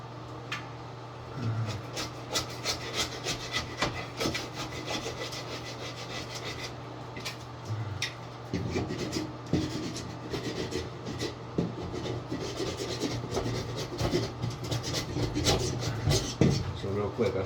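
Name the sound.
scraping wallpaper off a wall with a spatula knife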